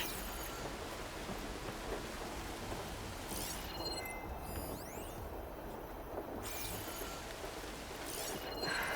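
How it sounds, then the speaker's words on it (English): Steady heavy rain pours throughout in the game Horizon Forbidden West, with a rumble of thunder rolling underneath; dense, continuous and fairly close. "Can't hear much over the rain."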